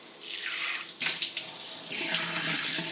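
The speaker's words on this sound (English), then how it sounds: "let's put first a hot water into the pot" Hot water gushes from a kitchen tap into a cooking pot as a loud, steady rushing splash, shifting in tone as the flow hits the water already in the pot.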